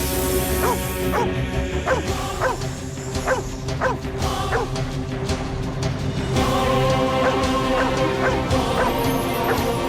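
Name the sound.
dog barking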